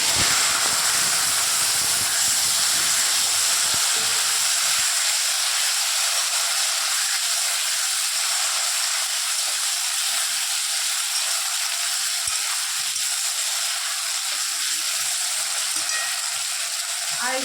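Bay leaf, dried chilli, white and black cumin, tomato and potato dropped into hot oil in a home kitchen, a loud dense sizzle and hiss filling the whole clip, with a few stirring knocks early on.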